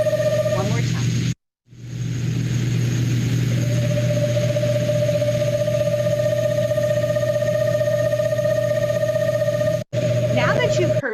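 A sustained, even-pitched trill from an eastern screech owl in a suburban neighborhood. A short gap comes first, then one long unbroken call runs to the end over a steady low background hum.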